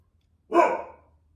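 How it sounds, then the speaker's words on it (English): A dog lets out one sharp, close bark with a breathy tail, alone against a faint low hum. "If my dog had quit barking, it'd be a better video."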